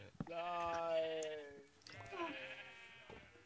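Two sheep bleats from Minecraft, each a drawn-out wavering baa, the first longer and stronger, the second following after a brief gap, heard close with only light background noise.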